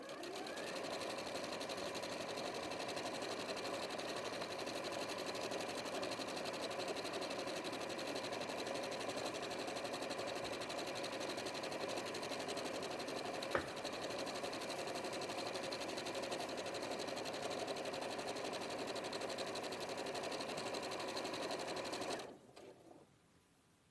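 Sewing machine stitching fabric in one long continuous run, a steady close whir with even stitch rhythm that stops abruptly near the end, with no talk over it.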